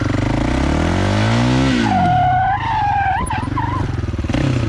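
A quad bike turns with its front brake locked, its engine revving and sweeping up and down in pitch while tires squeal and skid loudly close by.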